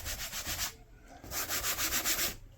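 Smooth canvas of a OneTigris SUPRAGRIS camping cot rustling loudly at close range in two sustained bursts of rubbing, separated by a brief quieter pause.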